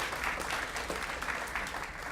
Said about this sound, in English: I'd like you to give them a round of applause for getting you to this point